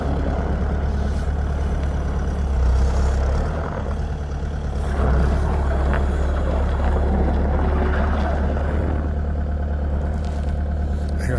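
A skid steer's diesel engine runs steadily with a deep, loud rumble, its pitch shifting slightly as the machine works, with no talk over it.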